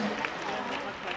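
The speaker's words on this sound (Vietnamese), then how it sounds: "Xin một tràng pháo tay thật lớn" A crowd at a concert in the Rivercree casino in Edmonton applauds to welcome a female singer back on stage, with dense, steady clapping that fills the space and voices mixed in.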